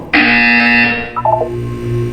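Buzzer in the video game Portal 2: a loud, harsh electronic buzz sounding alone for about a second, followed by a short descending run of tones over a low hum.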